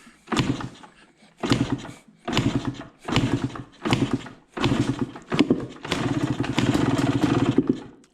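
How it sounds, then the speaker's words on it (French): A 2014 Yamaha YZ 125 two-stroke dirt bike is started without the choke: a series of short, loud bursts from repeated start attempts, then a longer, sustained run of the engine near the end. "On va voir déjà si ça démarre ou pas sans starter."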